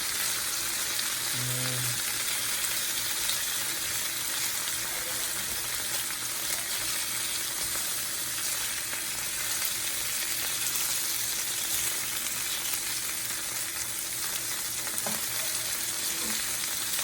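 Oxtails browning in a frying pan give off a steady, even sizzle with soft crackles that continues unbroken for the whole stretch.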